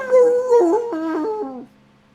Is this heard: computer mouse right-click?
no